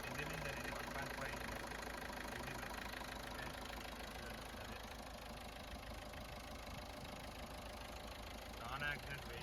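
A 2014 Ford EcoSport 1.5 diesel engine idling, a steady low drone with faint rhythmic clatter, close and even throughout, with no talk over it.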